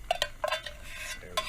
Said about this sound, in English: I'm going to add in the chicken, onion, peas, and carrots